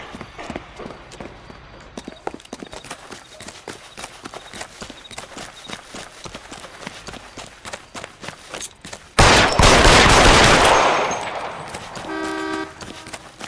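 Rapid gunfire cracks out in L.A. Noire during a street chase, a run of sharp shots over hurried footsteps, then a sudden loud burst of noise near the end with a car horn tooting.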